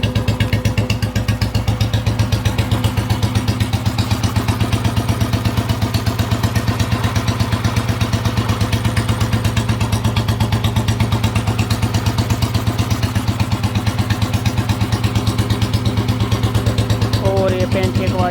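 A Royal Enfield Bullet Electra 5S motorcycle, freshly restored, runs steadily at idle close by, its single-cylinder thump beating evenly and loud for the whole stretch with a slight clatter, with no speech over it.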